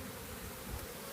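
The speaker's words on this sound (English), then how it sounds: "They fan their wings and that spreads that scent pheromone." Steady, close buzzing of a honeybee swarm with bees fanning their wings to spread scent pheromone, a dense continuous drone throughout.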